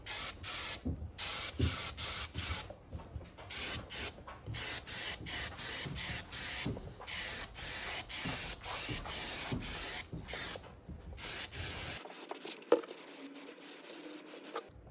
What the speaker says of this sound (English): This is leather dye, it's acrylic leather dye. And we got it in an airbrush.